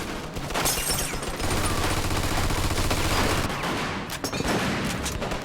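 Machine gun fire rattles loudly and continuously in a video game battle, with sharp bursts and a grenade blast near the end; no one speaks.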